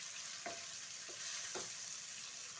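Green chillies and curry leaves frying in oil for tempered rice, a soft continuous sizzle with three brief spatula scrapes, close but faint.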